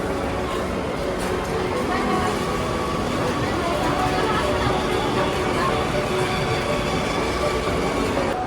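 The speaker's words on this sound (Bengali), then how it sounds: "এটা তো ট্রেন" A train rumbles loudly and continuously, its wheels rattling on the track, with people talking faintly beneath the noise.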